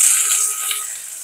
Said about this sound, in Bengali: পেঁয়াজ দিলাম